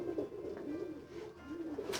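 A pigeon coos softly in a rising and falling rolling call, repeated a few times, fairly faint against quiet room noise, with a brief bright sound at the end.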